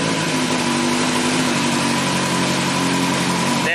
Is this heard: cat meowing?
no